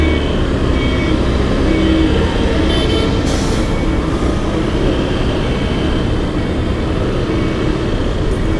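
A metro train rolls past near Krishnarajapuram station in Bangalore, a loud, steady rumble filling the whole span, heard from a bike ride along the rail line amid heavy construction.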